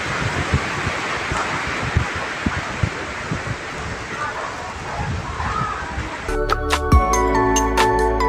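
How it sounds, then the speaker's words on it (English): Strong wind buffets the microphone in gusty rumbles under speech, then an electronic melody abruptly starts near the end. "it has already started drizzling and it's so damn windy"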